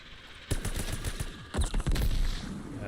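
Bursts of rapid automatic gunfire in Call of Duty: Vanguard Zombies on the Der Anfang map, with two loud clusters of quick shots separated by a brief pause.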